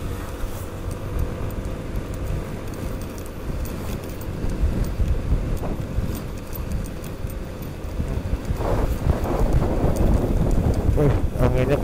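Strong wind buffets the microphone of a rider on a motorbike along a village road in Subang, West Java, a constant low roaring rumble mixed with engine drone that swells stronger toward the end.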